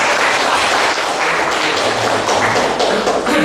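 Loud, dense applause from an audience at an official district government event in Lampung Tengah, steady broadband clapping filling the whole stretch without a break.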